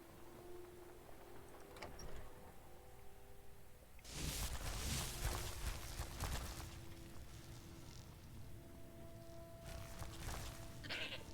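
Goats in a Skyrim game world give off bleats mixed with rough game noise. A burst of clatter and rustling sits over a steady background hum, and a few fainter bleats follow later.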